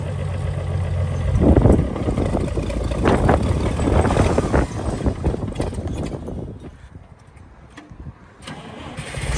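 A 1964 International 706 tractor engine cranks and catches, runs rough and loud for several seconds, then bogs down and dies away before a final rising noise.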